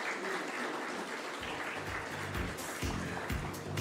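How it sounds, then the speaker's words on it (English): Audience at a governance awards event gives a sustained round of applause, dense, steady clapping throughout with a low voice or hum entering partway. "Let's welcome him with a huge round of applause"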